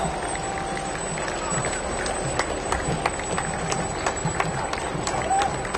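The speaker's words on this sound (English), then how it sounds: "let's give them a nice round of applause" Crowd along a 2017 Oktemberfest parade route applauding passing veterans of a VFW post, scattered outdoor clapping with occasional sharp claps and faint cheering, voices murmuring nearby.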